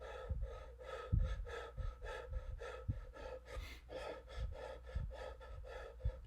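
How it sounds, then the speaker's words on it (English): Rapid, deliberate hyperventilating breaths from a person in a physiology lecture demonstration, a steady run of quick, close in-and-out gasps and pants repeating for several seconds with no talking. "Now I'm going to start breathing faster,"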